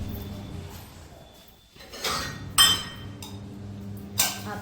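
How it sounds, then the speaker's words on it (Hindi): Washed steel utensils and dishes being put away in a home kitchen give scattered clinks and clanks, with a few sharper metallic knocks over a low room hum. "मम्मी लगा रहे हैं यहाँ पे बर्तन"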